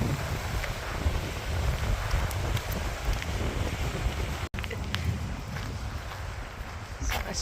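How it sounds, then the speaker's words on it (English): Wind blows steadily along a riverside hiking trail on the South Korea circumference route, a continuous broadband rush with gusty buffeting against the microphone throughout. "The wind is picking up."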